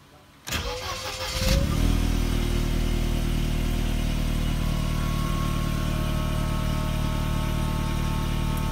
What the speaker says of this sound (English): I'm just gonna hit that ignition now